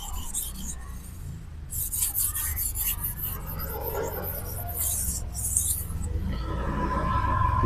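A knife blade is honed on a whetstone with repeated rasping strokes in a steady back-and-forth rhythm, close and clear over a low background hum.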